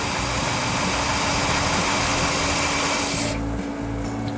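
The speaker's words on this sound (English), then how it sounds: "this engine wants to cut out the moment I put it at idle" A vehicle engine idles roughly in a steady, loud, close drone with a low rumble, and its upper hiss drops away near the end as the engine note continues.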